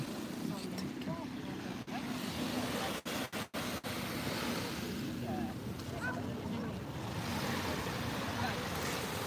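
Sea waves wash onto a sandy beach with a few pebbles, a continuous roaring surf with wind buffeting the microphone and a brief spell of handling noise.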